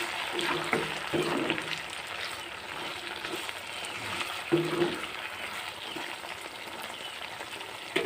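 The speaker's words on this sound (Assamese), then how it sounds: "এনেদৰে ঔটেঙাখিনি সিজালৈকে লৰাই ভাজি থাকিম।" Pork and elephant apple are stir-fried in a pan, producing a continuous soft sizzle with occasional scraping stirs, moderately close and fairly quiet.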